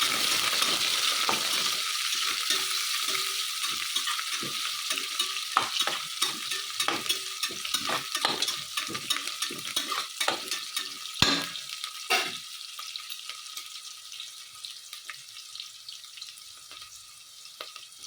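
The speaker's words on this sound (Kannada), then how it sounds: "ಎರಡು ಈರುಳ್ಳಿ ಹಾಕ್ತಾ ಇದ್ದೀನಿ ನಾನು ಇದನ್ನು ನಾವು ಚೆನ್ನಾಗಿ ಫ್ರೈ ಮಾಡ್ಕೊಳ್ಳೋಣ" Two onions frying in oil for vangi bath sizzle steadily and close, with repeated scraping stir strokes; the sizzle softens and thins toward the end, with no voices.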